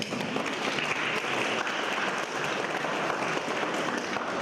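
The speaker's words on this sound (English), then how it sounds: "I request all the participants to give an applause for our actors." Workshop participants applaud the actors at a pre-conference session in Chikkamagaluru, with sustained clapping from a roomful of people that holds at an even, moderate level for the full four and a half seconds.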